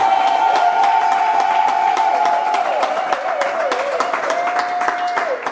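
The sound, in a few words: wedding guests applauding and acclaiming Jesus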